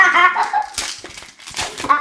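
A small dog barks and whimpers in short, high yips and whines, close and fairly loud, with brief pauses between bursts.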